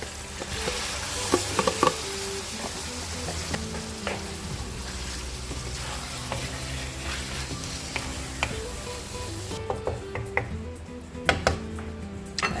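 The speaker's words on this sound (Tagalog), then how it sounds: "Add natin yung ating pork. Yung marinate natin kanina." Marinated pork frying in a pan gives a continuous, close sizzle with scattered clicks and scrapes of stirring throughout, the hiss easing slightly near the end.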